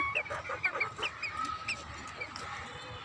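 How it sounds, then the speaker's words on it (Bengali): Farmyard chickens clucking near a vegetable garden, several short, repeated clucks close by over soft outdoor background. "এদিকে আছে মুরগি।"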